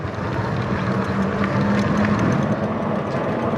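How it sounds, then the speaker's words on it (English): A Velowave Rover fat-tire electric bike motor runs in pedal-assist level 1, giving a steady, loud whir mixed with rushing wind and road noise and no pauses. "the motor kicks in pretty much right away"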